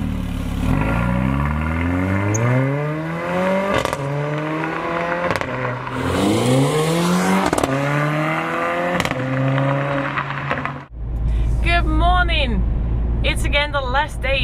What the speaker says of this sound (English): Day that I am driving this Mercedes A45 AMG Performance